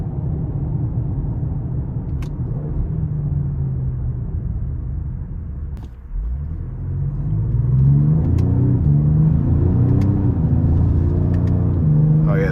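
A 2025 Ford Explorer ST with a twin-turbo V6 rumbles along, then its engine note climbs and swells into a strong, rising pull while accelerating onto the interstate, with a few brief clicks over the cabin drone.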